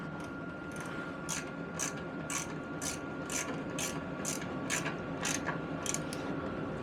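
A ratchet tightens a 13mm bolt on a 1974 Piaggio Vespa Ciao moped with about a dozen evenly spaced clicking strokes, close and clear over a low steady hum.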